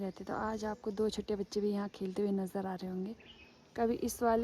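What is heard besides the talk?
None of the usual background noises is heard.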